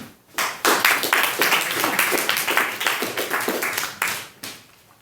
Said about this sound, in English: A big round of applause for a story called Engage the Enemy, Glenn Savage.